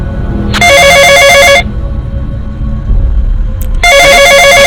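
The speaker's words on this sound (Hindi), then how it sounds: "किसका फोन है?" A telephone rings loudly in two long electronic trills separated by a pause, with a low ambient rumble underneath and no talking.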